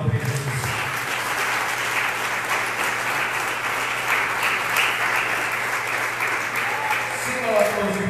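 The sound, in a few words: congregation applauding to exalt Jesus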